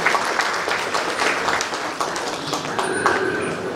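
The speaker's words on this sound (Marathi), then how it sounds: "म्हणून त्यांच्या नावाला आपण यावेळेस जोरदार टाळ्या वाजवूया" Enthusiastic applause from an audience at a college event, dense steady clapping throughout with a few louder claps standing out.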